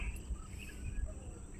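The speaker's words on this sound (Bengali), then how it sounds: "ঝিঝির ডাক আর পাখির কাকলি" Crickets chirp in a soft, steady high drone in quiet countryside, with faint bird calls mixed in, all distant and low in level.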